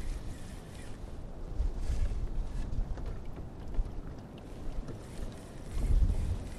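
Strong wind buffets and rumbles continuously while spin fishing, gusting louder at times, with a low roar like open water nearby.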